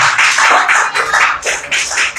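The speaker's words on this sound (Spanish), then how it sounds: "Denle un fuerte aplauso a Cristo, aleluya." A church congregation claps together in a loud, fast, rhythmic burst, praising Christ during a worship service, with no voices over the clapping.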